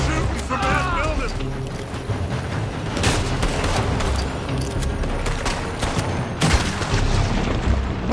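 Gunfire and booming shots during a shootout in Red Dead Redemption 2, layered under continuous game noise with several sharp bursts standing out.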